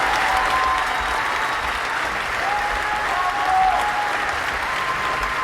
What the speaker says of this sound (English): And another round of applause for Mr.